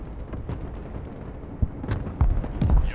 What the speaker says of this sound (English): Alright, that's a nice artillery strike.